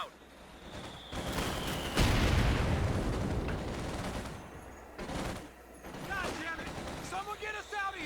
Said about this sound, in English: these mortars start lofting shells to the center of the field